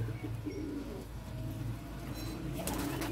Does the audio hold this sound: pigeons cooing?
yes